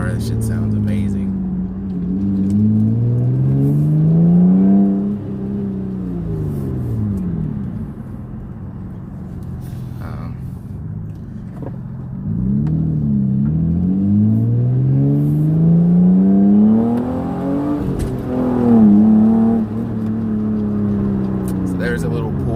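Car engine revs in slow rising and falling sweeps, easing back down toward idle as the car slows, fairly close and steady over a low rumble, with a voice talking over it.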